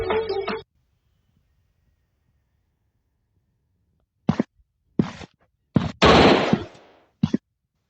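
Gunfire in a shooting video game, a handful of sharp, loud shots in separated bursts with silence between, one longer ringing blast near the end.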